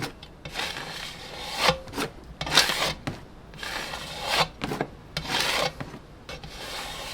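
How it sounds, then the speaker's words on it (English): Paint being scraped off a piece before spinning it, heard as a series of close, rough scraping and rasping strokes at an uneven pace with short pauses between. "So, scrape some of this off."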